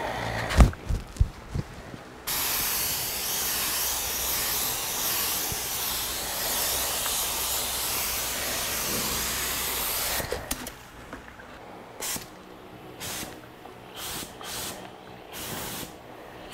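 Spray gun spraying paint onto a car in a home garage, a loud steady hissing blast lasting several seconds, then a few short bursts of spray with gaps between.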